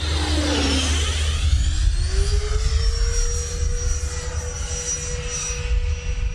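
Freewing F/A-18C Blue Angels 90mm electric ducted-fan RC jet flying past, its whine rising and falling as it sweeps by, then holding a steady high tone over outdoor rumble.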